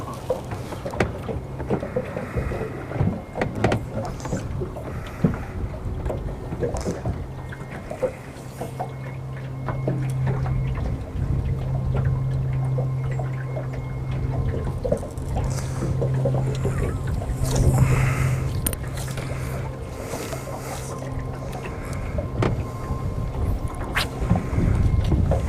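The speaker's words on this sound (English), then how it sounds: "I'm about done with this wind." Wind blowing during a fishing outing, a steady rough rumble with gusts and buffeting against the microphone, mixed with water lapping and a low hum, heard without talk.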